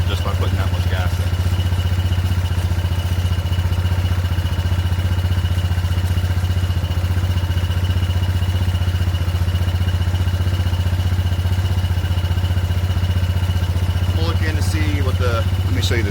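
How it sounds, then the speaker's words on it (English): A Yamaha Grizzly 660 4x4 ATV idles steadily up close, a constant low rumbling drone throughout with a faint rattle, and a few brief clicks near the end. "I can literally already hear it starting to idle better just by putting that much gas in."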